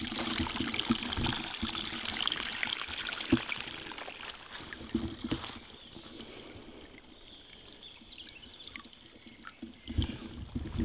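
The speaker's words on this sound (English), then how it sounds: "It's created its own little algae waterfall." Small waterfall trickling over algae at a military training ground, a steady close splashing and dribbling with scattered sharper drips and occasional faint bird chirps.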